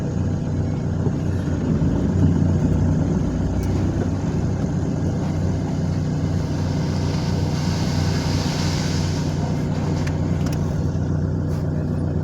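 A vehicle crossing rough ground with no road, its engine a steady low drone throughout, moderately near and fairly even in level, with faint distant voices at times.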